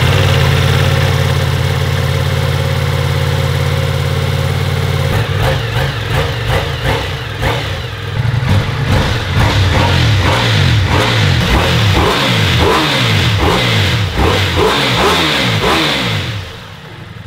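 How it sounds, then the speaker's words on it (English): A 2023 Ducati Multistrada V4 Rally motorcycle fitted with a Ducati Performance Akrapovic exhaust idles with a steady low rumble, then is revved hard in repeated sharp bursts that climb and fall, loud and close, with no talking. "Let's start it up and rev the crap out of it, because we got a Ducati Performance Akrapovic."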